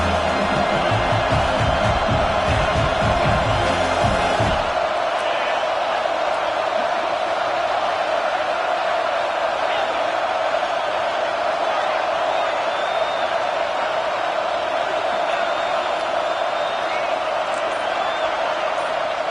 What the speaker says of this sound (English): 3rd down and the crowd really getting into it.